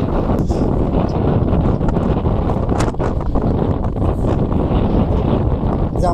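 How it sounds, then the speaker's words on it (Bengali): Strong gusting wind from a sudden Kalbaisakhi-type storm roars steadily and loudly across the whole stretch, with rustling and buffeting against the microphone and no break in the blustery noise. "বাতাসের শব্দ আপনারা শুনতে পাচ্ছেন"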